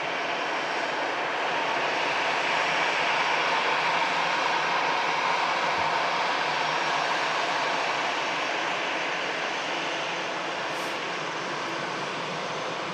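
A KLM airliner rolls along the runway at Manchester Airport, its jet engines producing a steady, broad roar that holds at a constant level for the whole stretch, heard at a moderate distance with no talking.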